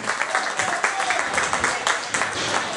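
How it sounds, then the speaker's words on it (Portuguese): A crowd at an evening fundraising event in Seebach applauds for Gonçalo, with steady, moderately loud clapping that carries on throughout and voices mixed in. "Uma salva de palmas para o Gonçalo."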